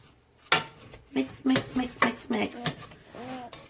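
Strawberry jam ingredients are stirred in a pot on a stove, with a spoon knocking and scraping against the pot in quick, uneven clatters, and a voice briefly heard near the end.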